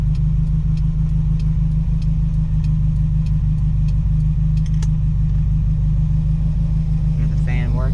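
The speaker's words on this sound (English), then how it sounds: "Hear the fan working." A car's engine cooling fan runs steadily as a loud, constant whir over deep engine rumble, with a faint ticking repeating in the background and a brief voice near the end.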